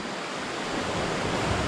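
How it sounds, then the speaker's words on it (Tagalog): Strong sea waves rolling onto the shore during the amihan monsoon at a fishing spot, a loud steady rushing surf that swells slightly, with wind noise on the microphone and no talking. "Lakas na ng alon."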